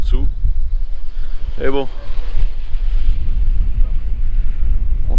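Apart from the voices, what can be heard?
strong wind at sea on a sailboat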